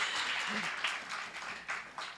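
A church congregation applauds, a steady wash of clapping from many hands that carries on through the whole stretch at moderate loudness.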